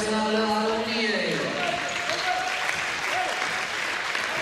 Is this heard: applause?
yes